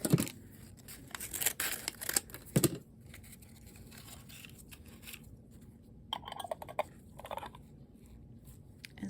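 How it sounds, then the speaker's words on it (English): Scissors snip through paper trimmed back into an alcohol ink craft piece, a few quick close cuts and rustles separated by a quiet stretch before more snipping. "And I need to cut some of that off."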